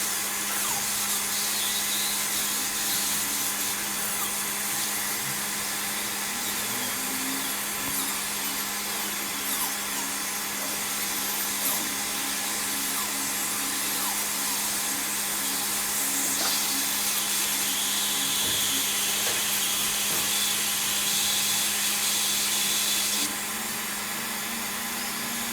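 A dental drill with a diamond bur preparing porcelain veneers on front teeth gives a steady, close, high-pitched whine with a low hum beneath, running without a break through the whole stretch.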